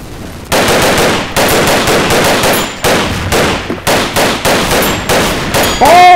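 Video game gunfire in rapid automatic bursts, loud and close, with short pauses between volleys and a metallic ring near the end; no voices are heard.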